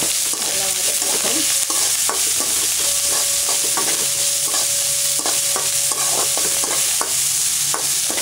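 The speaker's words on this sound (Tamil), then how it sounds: "கருவேப்பில காஞ்ச மிளகாய் வெங்காயம் பச்சை மிளகாய் நல்லா வதக்கிட்டு" Curry leaves, dried chillies, onion and green chillies sizzle and fry in a pan for a yellow pumpkin curry, with steady frying hiss and repeated clinks of a spoon stirring.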